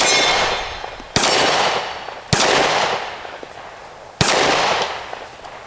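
Four sharp, loud gunshots from a Taurus GX4 pistol, spaced roughly a second apart, each followed by a long ringing outdoor echo decay, with no speech.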